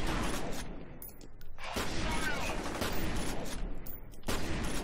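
Shotgun blasts in the first-person shooter F.E.A.R., several loud booming shots at irregular intervals with dense game-action noise between them.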